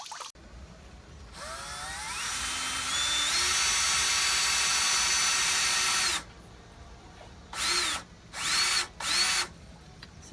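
A power drill driving new screws into worn, falling-apart fittings: a long continuous whirring run that rises in pitch, then three short bursts with brief pauses between them, close and loud.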